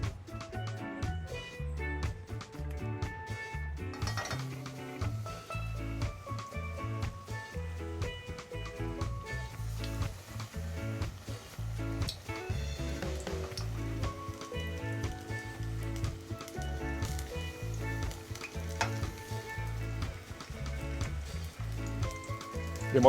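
Saltfish accra batter fries in hot oil in a pot, a dense, continuous close sizzle and crackle with no voices.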